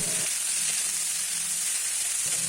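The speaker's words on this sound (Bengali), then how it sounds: "কেটে রেখেছিলাম সবজিগুলো ডাটা পটল আলু সেগুলো দিয়ে দিচ্ছি" Drumstick, pointed gourd and potato pieces fry with whole cumin in a pan, giving a steady, close hiss and sizzle with no talking.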